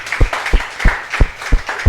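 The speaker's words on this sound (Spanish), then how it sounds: "darle un fuerte aplauso" A church congregation claps in a steady rhythm, about six loud unison claps over two seconds, close and clear.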